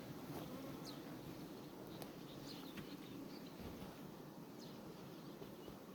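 Honeybees buzz around an opened beehive during a spring inspection, a dense droning swarm with individual bees zipping past close by, outdoors and continuous.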